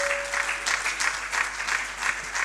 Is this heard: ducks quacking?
no